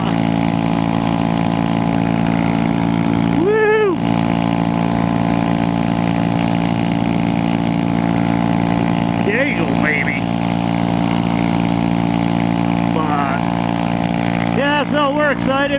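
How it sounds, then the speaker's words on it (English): Honda Grom motorcycle engine holding a steady loud drone throughout, with brief sharp climbs in pitch as it bounces off the rev limiter around the middle and end; a voice is heard over it. "Wow, I bounced off the rev limiter."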